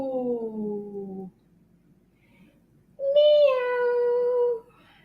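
In a kids' yoga storytelling session, a voice imitates a cat with two drawn-out, sing-song meows separated by a short pause, close and clear.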